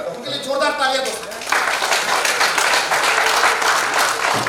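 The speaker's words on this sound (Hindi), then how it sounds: "उनके लिए जोरदार तालियां दो।" An audience breaks into loud applause after a short stretch of speech, and dense, sustained clapping then fills the rest of the moment.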